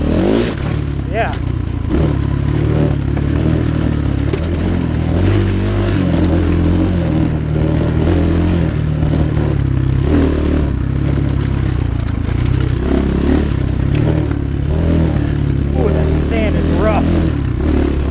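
A Templar 250cc Chinese dirt bike rides a wooded moto trail with jumps, its engine droning loud and steady throughout, with rattling, clattering and scraping from the trail mixed in.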